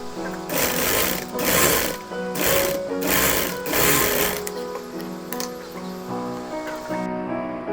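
A sewing machine stitches a V-neck petticoat in several close, rhythmic bursts of whirring and clattering, then slows to lighter mechanical clicks near the end, with no voices.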